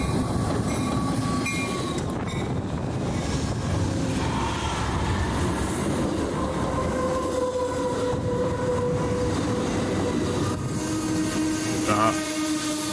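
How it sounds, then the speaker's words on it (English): A train rumbles past with steady clattering and roaring, loud and continuous throughout, with a brief higher screech near the end. "Everyone loves the train approach, by the way."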